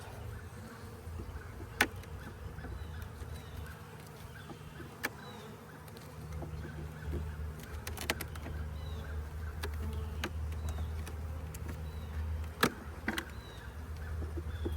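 Honeybees hum steadily at a hive during a split, a continuous close drone of many insects with occasional sharper passes of individual bees, and no talking over it.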